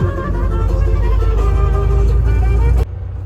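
A car's wheels spin on an icy, snowy highway, a loud continuous engine roar with whining tire noise that holds steady for nearly three seconds, then cuts off abruptly.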